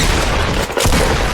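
Gunfire in the video game Fortnite, a loud, dense, continuous barrage with a brief dip partway through, heard up close with no talking.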